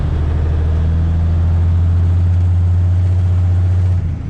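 An old diesel vehicle idles loudly and close in winter, a steady low drone with a constant hum that cuts off abruptly at the end.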